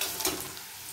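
Chopped onions with a bay leaf frying in a pan for a chicken mince and peas curry, a soft continuous sizzle, close and fairly quiet, lasting about a second.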